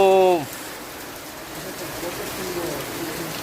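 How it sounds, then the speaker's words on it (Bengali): Late-summer Bhadra-month rain falls in a steady, even hiss, after a brief tonal call at the very start. "বৃষ্টি তো 5 মিনিট বা 10 মিনিট হচ্ছে"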